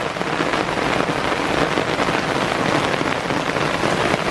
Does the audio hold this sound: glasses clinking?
no